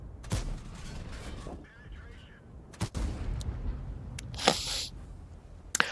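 Foch 155 tank destroyer cannon firing in World of Tanks, with several sharp booming shots spread across the clip, one louder burst near the end, over a steady rumbling battle background.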